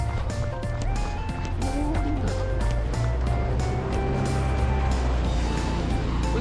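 An old Volkswagen Beetle drives past on a narrow residential street near a railroad crossing in Kichijoji, Tokyo, giving a steady, fairly loud low engine rumble that carries through the whole stretch.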